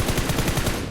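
Rapid automatic gunfire in PUBG Mobile, a loud continuous burst of evenly spaced shots that rattles without pause for the full second.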